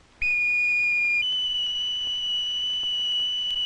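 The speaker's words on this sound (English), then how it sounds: "when the bosun's whistle blew in the morning" A bosun's whistle on a ship gives a sustained, piercing, steady tone that shifts pitch once partway through and holds loudly to the end, alone with no talk.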